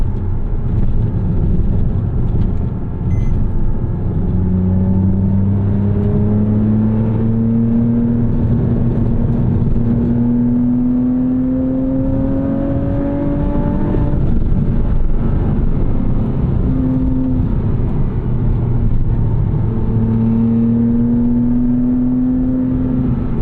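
A 2006 Porsche Cayman S engine heard from inside while driving up through long gears, a loud steady drone whose pitch climbs gradually, dips at each shift and climbs again, with road and wind noise beneath.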